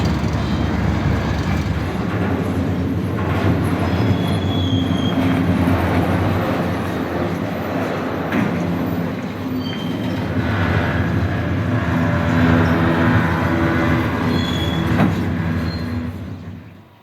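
A Union Pacific maintenance-of-way train rumbles steadily past at close range, wheels clattering and squealing faintly over a continuous loud roar.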